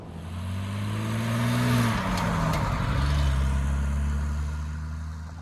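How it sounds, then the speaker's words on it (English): Triumph TR6 six-cylinder engine and exhaust on the road, a deep rising drone as the car accelerates, a brief dip at a gear change, then the growl climbing again, close and loud with wind noise. "listen to that glorious exhaust note a little bit better"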